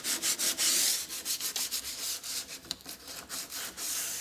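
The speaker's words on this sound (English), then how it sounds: "A little bit of finish sanding" Finish sanding on a wooden bathroom vanity cabinet in a wood shop, a steady back-and-forth rasp of abrasive on wood in quick regular strokes, close and continuous.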